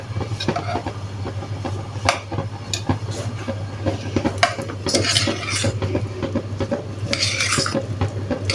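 A utensil scrapes and clinks against a pan as chicken and mushrooms are stirred, with repeated irregular knocks and scrapes over a steady low hum. No one speaks.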